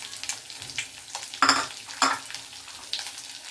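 Chopped onions and green chillies frying in a pan for an Andhra-style egg curry, with a steady close sizzle and a few sharp scraping stirs of a spoon against the pan.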